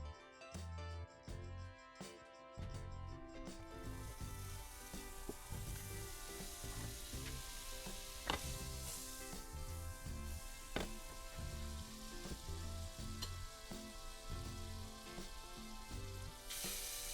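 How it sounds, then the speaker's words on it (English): Shrimp marinated in ginger, garlic and Creole seasoning stir-frying with asparagus in a pan, a loud steady sizzle with scattered pops and occasional stirring clatter, and no talk. "For dinner, I stir-fried some shrimp, which was marinated in ginger, garlic, and Creole seasoning, as well as some asparagus"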